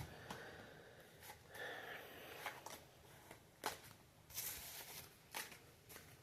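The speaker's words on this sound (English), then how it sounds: "This time I'm going to shuffle this time." Tarot cards shuffled close up, with quiet irregular riffling and snapping bursts separated by short pauses and soft breathing sounds.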